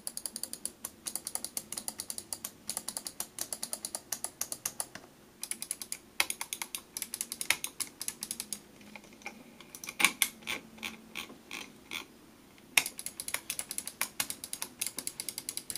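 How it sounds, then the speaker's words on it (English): Crisp, rapid clicks from the buttons of Logitech G900 and Razer Mamba Chroma wireless gaming mice in quick bursts with short pauses, close up and alone with no voices. "a quick little audio sample of what the actual clicking sound feels like"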